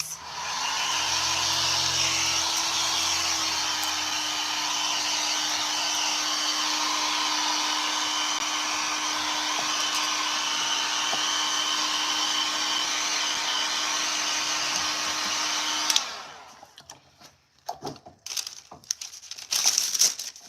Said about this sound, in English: Turning on my heat gun, you guys.